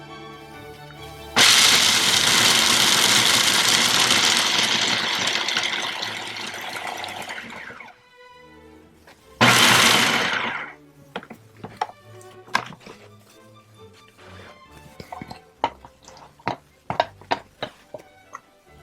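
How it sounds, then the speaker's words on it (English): A food processor roars loudly for about six seconds as it grinds ingredients for a chocolate, avocado, pistachio and almond ice cream cake, then gives a second short pulse, followed by sharp clicks and clatters of the lid and bowl. "in our food processor. And let's give them a whirl."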